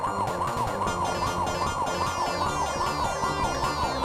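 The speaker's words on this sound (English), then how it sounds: "the police car's after me now" A police car siren in the Test Drive 2 video game wails in a fast repeating up-and-down cycle, loud and steady throughout with a synthetic tone, over a continuous game engine drone.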